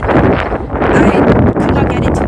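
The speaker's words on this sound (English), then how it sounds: "it's really windy, straight into the wind" On a golf course, strong wind buffets the microphone in a loud, continuous low roar with gusty surges, while a voice is partly audible beneath the rumble.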